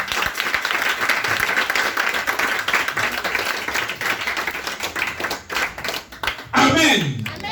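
A church congregation claps and applauds, a dense, steady patter of many hands that thins into scattered claps near the end, mixed with voices calling out.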